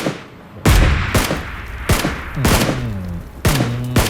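Several sharp, loud video game gunshots in PUBG Mobile ring out in quick succession, followed by a couple of ringing metallic echoes and a final nearby shot.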